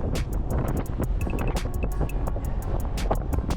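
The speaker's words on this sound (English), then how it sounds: "Damn, it's windy." Wind gusting across a microphone on a budget e-bike ride outdoors, a heavy low rumble with buffeting, broken by sharp clicks and rattles throughout.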